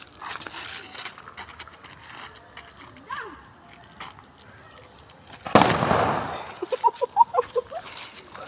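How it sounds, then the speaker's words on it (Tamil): A loud burst of Lakshmi brand firecracker blasts, followed by a quick series of sharp pops crackling in a row, with faint voices and outdoor noise before. "லக்ஷ்மி கிராக்கர், லக்ஷ்மி வெடி."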